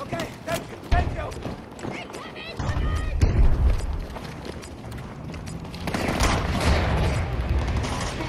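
Battlefield 2042 combat: scattered gunfire and a heavy grenade blast boom out near the middle, followed by a rumbling wash of battle noise, with voices talking throughout.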